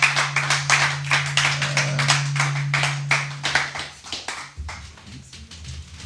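A church congregation claps in a steady, rhythmic beat to acclaim Jesus, loud and close with a low hum beneath, the clapping thinning and turning looser near the end.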